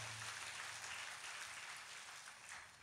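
A church congregation claps during a Malayalam sermon, a steady, even wash of applause that lasts the whole stretch at a fairly soft, distant level, with no voices over it.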